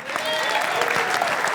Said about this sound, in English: Everybody give her a round of applause.